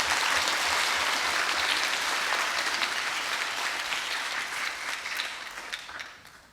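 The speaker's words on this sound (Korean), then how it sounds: "큰 박수로 환영해 주시기 바랍니다." An audience at a children's national assembly event applauds to welcome the National Assembly Speaker, a full, sustained wash of clapping from a large hall crowd that gradually thins and fades out, with no one talking over it.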